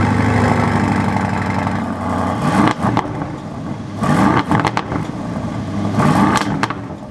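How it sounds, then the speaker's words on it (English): An Aston Martin DBX engine on a cold start idles at a steady, throaty rumble, with three sharp revving blips rising above it at intervals. No voices. "here's what a cold start sounds like."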